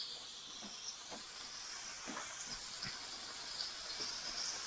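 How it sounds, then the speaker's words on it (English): A hamburger patty sizzles in bacon fat on a waffle maker, a faint, steady hiss broken by a few soft crackling pops, heard alone. "This burger's going to be juicy. And plus it's cooking in that bacon fat."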